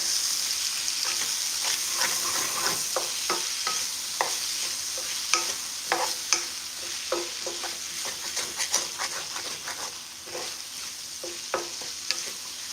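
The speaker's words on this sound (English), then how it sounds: "We're scraping off all those little burnt bits off the bottom of the pan." A utensil scrapes burnt bits off the bottom of a pan of brown stew chicken with onion, pepper and garlic, irregular scratchy strokes repeating over a steady sizzle of frying.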